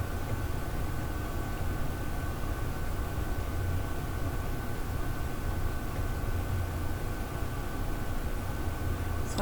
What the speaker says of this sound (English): Sorry about the noise in the background. My furnace is on.